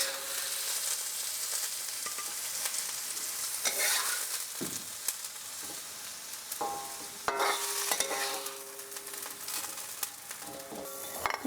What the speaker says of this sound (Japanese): こうやってどんどんいろんなお野菜を一つずつ炒めてさっさと炒めてね、軽く塩味をつけて炒めていく